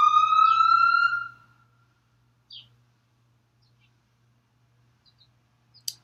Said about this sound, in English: That siren's just sort of popping up and down the street